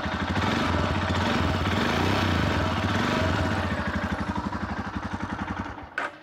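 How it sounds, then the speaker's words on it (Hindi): A 2021 Royal Enfield Himalayan engine thrums loud and close as the throttle is blipped, its rapid pulsing firing rising then easing back, ending in a brief clunk. "इंजन नॉइस काफ़ी ज़्यादा अच्छी एंड स्मूथ है"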